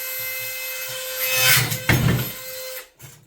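DeWalt drill with a clutch driving a screw into wood fencing, a close loud whirring grind for about three seconds that rises, then cuts off abruptly, with no talking.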